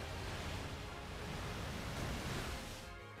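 A Surf water attack in Pokémon Y rushes out as a loud, steady wash of crashing-wave noise that fills the whole moment and eases off near the end.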